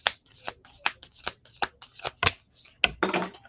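Heart-shaped oracle cards are shuffled by hand, giving a quick series of close, crisp riffles and flicks that end in a longer rustling burst.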